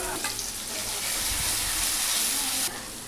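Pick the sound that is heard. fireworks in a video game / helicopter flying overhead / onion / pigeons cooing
onion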